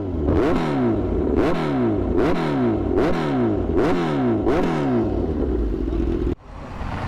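A Kawasaki Z900 motorcycle fitted with an Austin Racing exhaust revs hard and close up, with about six rhythmic throttle blips rising and falling before it drops back to a rumbling idle.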